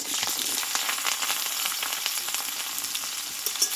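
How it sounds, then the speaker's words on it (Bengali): Pointed gourd fries in oil with whole cumin and slit green chilies, giving a close, bright, continuous crackling sizzle with a few brief stirring ticks. "এই কাঁচা লঙ্কাটা দিয়েই বন্ধুরা এই পটলটাকে ঢেলে দেবো"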